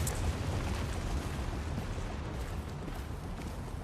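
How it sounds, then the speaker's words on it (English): A grenade explodes in Tom Clancy's The Division, a loud, dense roaring blast with rumbling debris that fills the whole stretch without letting up. "he's got a grenade coming in and he needs to move"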